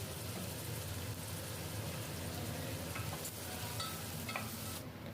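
Capsicum, tomato, turmeric and salt are stirred together in a pan. A steady, moderately faint sizzle continues throughout with a few light scraping clicks near the end, and no voices.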